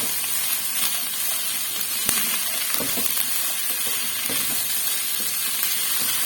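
Corn, cabbage and boiled peas sauté in a hot pan while being stirred, giving a steady close sizzle with soft scraping of the mixing, continuous throughout and without talk.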